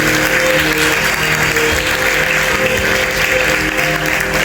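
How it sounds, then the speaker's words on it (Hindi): A church congregation claps loudly and continuously, a dense wash of many hands filling the room without pause. "इस समझदारी के लिए जोरदार ताली है।"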